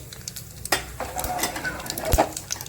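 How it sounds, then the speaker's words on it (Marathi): Mustard seeds crackle and sizzle in hot oil in a pan for a Marathi dal methi, with sharp intermittent pops over a steady frying hiss. "आता तेल चांगलं संपलं आपण एक चमचा मोहरी त्याच्यात टाकून घेऊयात"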